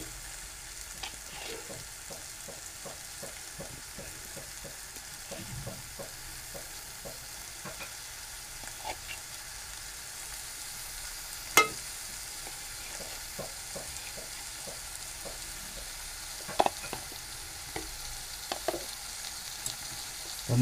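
Fresh coconut paste frying in rajma masala, a faint soft sizzle beneath a sequence of light scraping stirs and occasional utensil taps against the pan.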